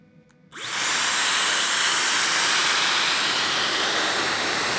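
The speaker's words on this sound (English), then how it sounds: "Let's turn on the hair dryer." A hair dryer powered from an ALLPOWERS S2000 power bank switches on abruptly after a brief quiet moment, then blows with a loud, steady whooshing roar.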